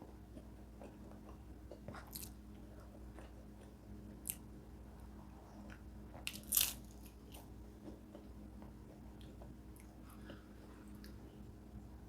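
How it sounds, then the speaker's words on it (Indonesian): Someone bites and chews an egg tart with a sweet crust and filling: a few soft crunchy bites, one sharper crackle, then quiet chewing against a low steady background hum. "Sekarang makan egg tart."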